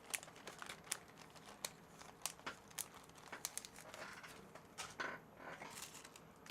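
Sheets of very thin, large tracing-type paper being handled, giving soft crinkles and crisp rustles in irregular bursts, close but quiet, with no one talking.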